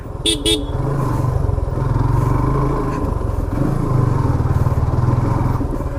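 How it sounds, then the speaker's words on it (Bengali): Motorbike carrying two riders on a rough village road near Nil Doriya, Pirganj, Rangpur; the engine drones loud and steady throughout with wind buffeting, and a short horn toot sounds near the start. "আজকে যে রাস্তায় বাইক রাইড করলাম"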